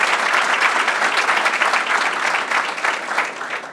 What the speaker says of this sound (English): can we give Adam Lane a round of applause?